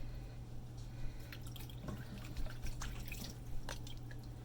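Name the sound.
soap bar being wetted under running water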